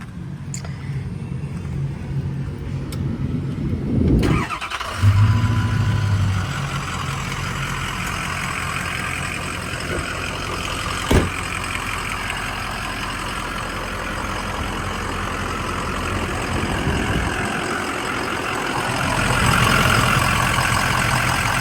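A 2004 Ford F350 Dually 4x4 with the 6.0 Powerstroke diesel cranks and fires up, then settles into a steady, loud idle that runs on for a long while, with a few faint clanks.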